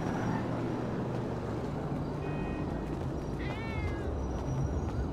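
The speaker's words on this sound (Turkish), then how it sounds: "Gidim şu kediyi biraz seveyim." A cat meows in Grand Theft Auto V, a short rising and falling call heard about midway. It sits over steady game background noise with low ambient hum, with no talk over it.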